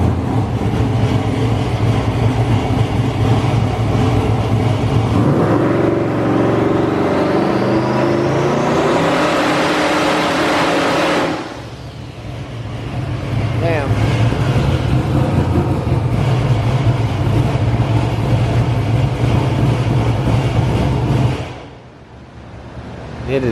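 A 2000hp Corvette Z06 roars loud and steady on a hub dyno, revving against the two-step with a rising spool-up, cutting off sharply near the middle, then droning hard again before a brief drop at the end.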